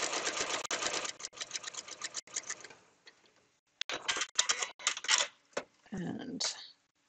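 A sewing machine stitching along a marked solid line on fabric, heard as bursts of fast rhythmic needle chatter that stop and start, with short pauses between runs and some soft handling sounds.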